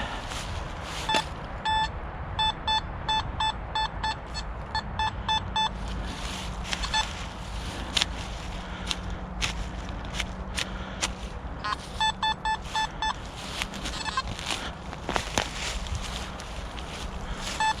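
Rapid bursts of high electronic metal detector beeping repeat in short clusters over scuffling and rustling nearby, with quieter gaps between.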